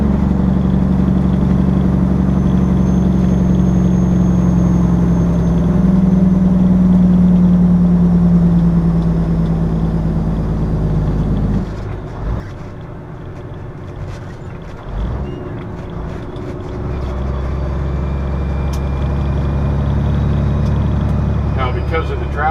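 A truck idles in stop-and-go highway traffic, giving a close, steady low engine rumble with a sustained hum that continues throughout, easing and shifting slightly about halfway through before settling back into a constant drone.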